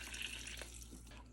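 Water pours steadily into a pan while making apple cider, filling it with a gallon plus two extra quarts; a continuous, moderately loud running-tap rush with faint splashing and no talk.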